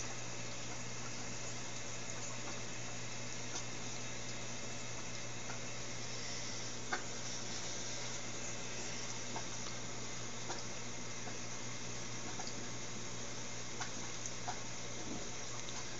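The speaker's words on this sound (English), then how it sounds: "Water's being pumped up from here." Steady hum of a running pump moving aquarium water into a reservoir, with water trickling and bubbling underneath, even and continuous, with occasional faint ticks.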